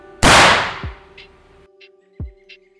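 A Bang 22 grenade goes off with a single loud, sharp blast that decays quickly, followed by a fainter thud and a few light clicks in an otherwise quiet setting.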